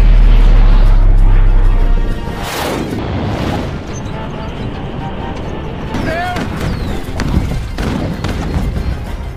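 Homemade bombs go off in an animated Addams Family film, with several loud booms and thuds alongside a busy cartoon soundtrack, and voices speak over parts of it.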